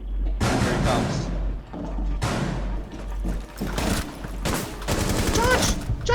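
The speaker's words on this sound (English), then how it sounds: "I see the guy shooting and I also hear him" Bursts of enemy gunfire in the tactical shooter video game Rainbow Six Siege, rapid automatic volleys and sharp shots in repeated clusters, loud and close, with voices mixed in.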